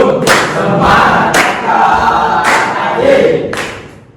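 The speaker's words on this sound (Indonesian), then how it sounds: "Tepuk semangat" A classroom group claps in time and chants a spirit cheer together, with four sharp, evenly spaced claps ringing out over loud unison voices, close and energetic.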